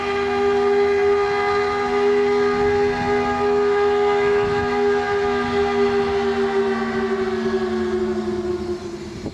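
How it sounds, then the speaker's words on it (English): A paper mill steam whistle sounding at 7 a.m. in Panama City, one long sustained loud tone with a slight downward drift in pitch, heard from a distance outdoors and fading near the end, with no talking. "there's the whistle."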